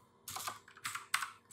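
Fingers type JavaScript code on a computer keyboard, a few quick bursts of close, crisp key clicks separated by short pauses, quiet with no talking.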